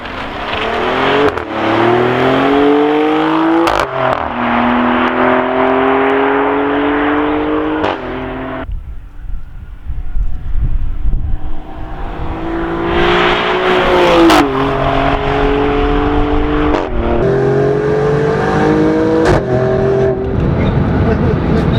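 Maserati Grecale Trofeo with its 523-horsepower V6 revving and accelerating hard, loud and close, rising engine notes climbing through several gears with sharp shift breaks, then a quieter lull before pulling strongly again.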